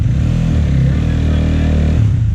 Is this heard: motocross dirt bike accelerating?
yes